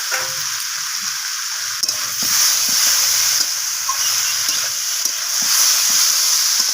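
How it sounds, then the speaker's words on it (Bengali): Fried cauliflower and soybean being stir-fried in a pan: a constant loud sizzle and hiss with repeated soft scraping stirs of a spoon through the food. "তো সমস্ত কিছু ভালো করে নাড়াচাড়া করে আমি এখানে কষিয়ে নেব।"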